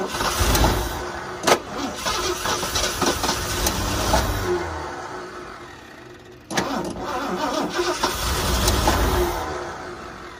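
A 1979 Ford Bronco engine, sitting unused for 15 years, cranks and catches with rough, sputtering bursts, dies briefly, then cranks and runs again loudly up close.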